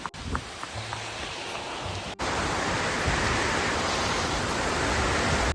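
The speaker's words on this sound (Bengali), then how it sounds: "কি ভয়ানক লেভেলের বৃষ্টি চলে এসছে বাইরে" Heavy rain pours steadily, a dense continuous roar of water that grows louder and fuller partway through, with no voices.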